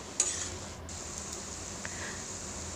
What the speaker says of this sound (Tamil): அப்பப்போ நீங்கள் கரண்டியை வச்சு இந்த மாதிரி கிளறி விட்டுக்கோங்க